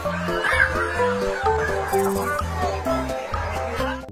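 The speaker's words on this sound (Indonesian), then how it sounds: "Bahkan mereka melepaskan seekor ayam yang membuat para sipir kewalahan" Chickens clucking repeatedly at close range as a hen is let loose in a prison, a busy rhythmic chatter of hen calls mixed with other noise and voices.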